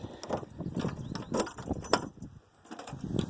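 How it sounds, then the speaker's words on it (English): Keys jangle and scrape in the trunk lock of a 1973 Pontiac Grand Ville hardtop, with close metallic rattles, a few sharp clicks of the mechanism turning, and faint shuffling around them. "So I'm going to use my keys here, and we're going to go in the trunk."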